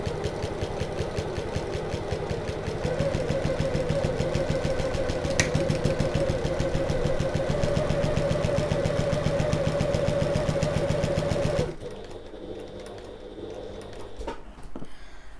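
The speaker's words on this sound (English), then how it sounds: "I'm going to sew all the way around, and then I'm going to overlap a few stitches just to secure those stitches" A sewing machine stitches around a fabric bag in a rapid, even mechanical chatter for about twelve seconds, then stops, leaving quieter handling noise.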